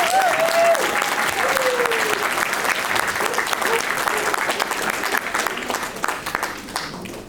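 An audience claps warmly for a fundraising team at an award event, a dense sustained round of applause that fades gradually, with a voice briefly audible at the start.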